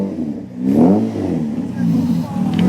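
A classic car fitted with a side exit exhaust revs at a car gathering, a deep rumbling engine swelling up and holding close by, with people talking over it.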